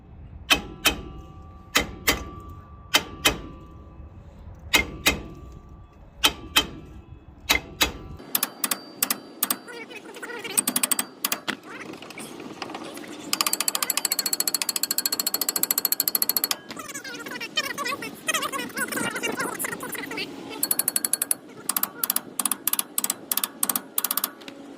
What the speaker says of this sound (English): tap this thing with a hammer to try to tap some of that rust around the hub and around these studs loose